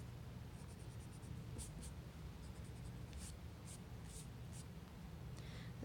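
A pencil drawing triangles on paper, faint scratchy strokes in short quick runs and single marks over a soft steady background hiss, close and quiet with no talking.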